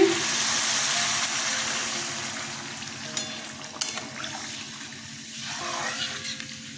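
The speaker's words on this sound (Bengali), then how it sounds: "মশলা কষানো হয়ে গেছে জল দিয়ে দিচ্ছি" Water poured into a pan of sizzling fried spice masala gives a loud hiss that fades steadily, leaving quieter bubbling and a few faint clinks; nobody talks.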